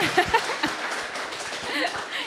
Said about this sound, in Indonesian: Mana tepuk tangannya dong? Tepuk tangan dong.